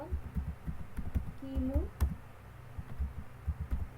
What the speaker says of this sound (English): have to type the command yum install